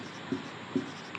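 Pen or chalk working out a class nine maths solution, faint scratching with two distinct taps about half a second apart, low and close, no voices.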